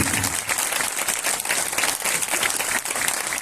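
A congregation at a Christian fellowship convention in Umarpada bursts into loud, dense applause, a continuous wash of many hands clapping together throughout with no gaps.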